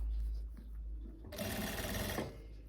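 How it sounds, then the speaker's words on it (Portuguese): A domestic sewing machine stitching a seam on dress fabric, quiet handling at first, then a loud, fast, even run of needle strokes for about a second before stopping. "E eu vou fazer uma costurinha puxando essa sobrinha de tecido aqui pro lado do revel"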